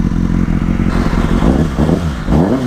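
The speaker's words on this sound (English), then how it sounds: "That full Yoshimura exhaust." A 2005 Kawasaki ZX6R 636 sport bike with a full Yoshimura exhaust, its engine running loud and close with a rough idle that rises into blips of revving near the end.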